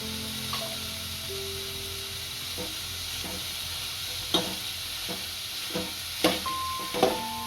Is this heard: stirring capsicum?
yes